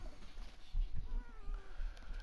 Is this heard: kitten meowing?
yes